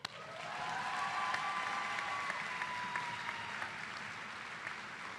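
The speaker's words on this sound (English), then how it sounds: "A round of applause for them." Steady audience applause at a medical school commencement, a dense, even wash of clapping that rises quickly and holds at moderate volume, with a faint sustained tone running through it and no voices.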